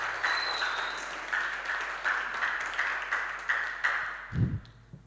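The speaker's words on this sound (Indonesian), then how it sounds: "Kita beri tepuk tangan semua untuk ketiga." Audience applause at a school student council candidate debate for three candidate pairs, a steady crowd of clapping hands filling the room at moderate level, ending with a brief low thump near the end.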